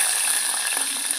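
Green chillies fry in hot oil in a home kitchen, giving a brief, steady, close crackling sizzle with bright spitting, and no one talks.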